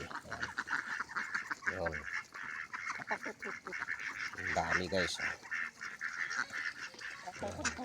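Geese honk repeatedly close by, a noisy flock calling over one another, while someone speaks briefly in between.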